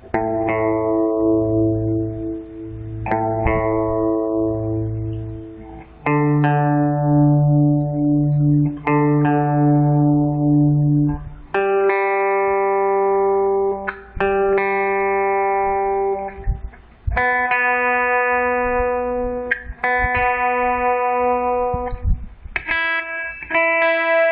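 Guitar strings tuned to E standard plucked one pair at a time, sustained clean notes stepping upward in pitch, each ringing for several seconds before the next.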